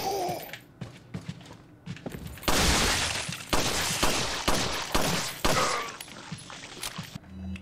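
Rapid bursts of gunfire ring out in Resident Evil 4, a dense volley of sharp, loud shots with some breaking and shattering impacts mixed in, faint talk at the start.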